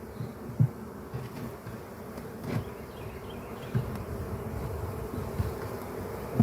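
Honey bees on hive frames buzz in a steady, close drone, with a few brief louder bumps and taps.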